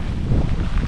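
A brief burst of strong wind in pouring rain before dawn at the Grindstone 100 race, rumbling against the microphone, dense and loud with no voices.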